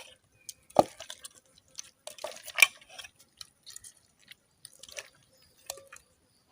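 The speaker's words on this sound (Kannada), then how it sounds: "ನೋಡಿ, ಇವಾಗ ಈ ಮಾವಿನ ಹಣ್ಣುಗಳನ್ನು ನಾವು ಚೆನ್ನಾಗಿ ನೋಡಿ ಅದರ ರಸವನ್ನು ಹಿಂಡಿಕೊಳ್ಳುವುದು" Peeled wild mangoes are squeezed by hand for their juice, giving soft wet squishes and drips in scattered bursts, close and quiet with silence between.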